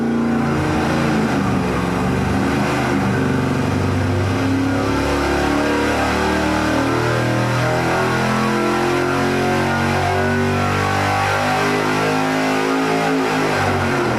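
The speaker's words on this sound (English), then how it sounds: "notice how the tunnel ram fires right up" An engine fitted with a tunnel ram intake runs loud and close, revving up and down repeatedly in a continuous rough, rising and falling roar with no talking.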